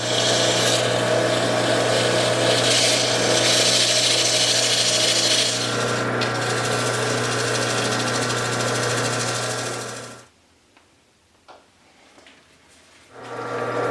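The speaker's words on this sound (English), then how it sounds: "I guess we're gonna sand it." Soft charcoal ring sanded by hand with micro mesh, a steady close rubbing scrape running continuously for about ten seconds, then dropping to near silence with a couple of faint touches before the rubbing resumes.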